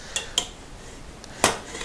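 A 20 cm frying pan wobbling on a Trangia storm cooker, giving a few sharp metallic clinks and knocks, one louder rattle among lighter taps, close and otherwise quiet.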